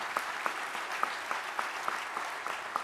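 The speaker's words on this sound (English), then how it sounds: "So let's give the ICC a round of applause today." An awards luncheon audience gives a round of applause, a dense, even patter of many hands clapping with a few sharper individual claps standing out, moderately near, no speech over it.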